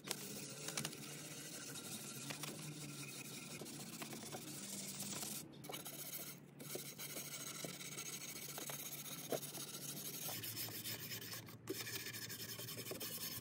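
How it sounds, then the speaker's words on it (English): A shiny furniture surface on a free nesting table gets scuff sanded by hand, producing a steady close rasping rub with repeated back-and-forth strokes and a few brief pauses. "I always recommend scuff sanding."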